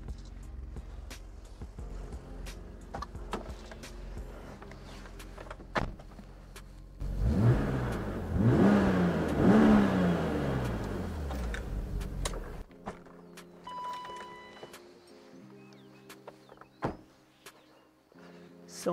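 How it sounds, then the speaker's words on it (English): A BMW M5 E34 engine idles low, then revs up hard for several seconds with a loud rising roar before settling back to a burbling idle. "Proper sound of a proper engine."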